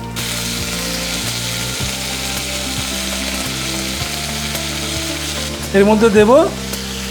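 Bell pepper and blanched vegetables sauté in a pan for white sauce pasta, giving a continuous sizzle over a steady mechanical hum. A voice speaks briefly near the end.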